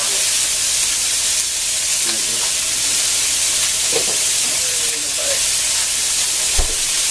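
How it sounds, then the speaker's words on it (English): Sausage frying in a cast iron skillet, a loud, steady hissing sizzle close by with a few faint clinks and thuds from the kitchen. "Got the sausage going in the cast iron skillet"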